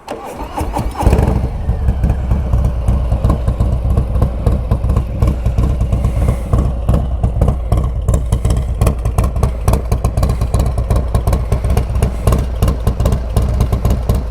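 A Harley-Davidson Street Bob 114 with an S&S 475 cam and Cobra El Diablo 2-into-1 exhaust starts up and settles into a loud, close, lumpy idle with a steady choppy beat, no talk.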